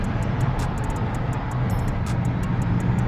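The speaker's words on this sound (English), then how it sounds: "Let me roll up these windows a little bit so y'all won't hear that much air" Air roars steadily through the open windows of a car driving at night in Chicago, a loud continuous buffeting rush with faint clicks above it.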